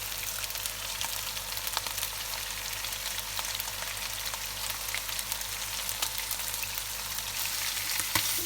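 Ground chili flakes, coriander and cumin sizzle steadily in a pan over a medium-high flame while making chicken karahi, a continuous even frying hiss with no talk.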